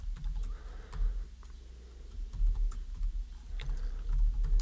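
Soft, quick keystrokes on a computer keyboard while typing into a Python console on Windows, a light irregular patter of clicks heard close up and alone.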